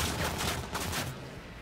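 Gunfire in Cyberpunk 2077, a quick run of rapid shots rattling close and loud over a dense game soundscape, with no talking.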